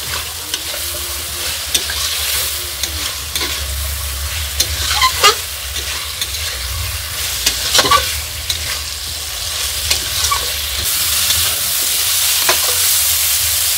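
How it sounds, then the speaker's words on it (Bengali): Fried potato and vegetable stalks sizzle in a spiced masala for a thin folui fish curry. A loud, continuous frying hiss is broken by frequent sharp clacks of a spatula stirring against the pan, with no voices. "এখন ভেজে রাখা ডাঁটা আলুটা দিয়ে দেব। এখন আরো 1 মিনিট ভেজে নেব।"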